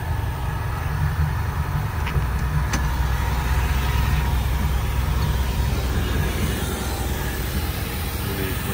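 A 1946 Delahaye 135M Coach by Guilloré idles after starting, a low, steady, even engine rumble that holds for several seconds with no other sounds over it.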